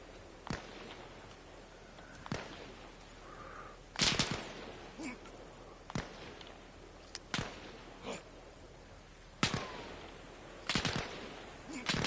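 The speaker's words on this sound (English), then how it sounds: "I can't fucking see where these guys are shooting me from" Gunfire in the video game Arma Reforger on PS5: scattered single shots and short bursts, some sharp and close, others duller and farther off, separated by quiet gaps over a low background hum.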